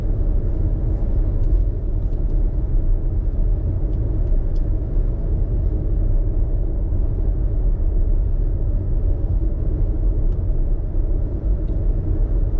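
Steady low rumble of road traffic and engine noise heard from inside a moving car, constant and unbroken with no talking.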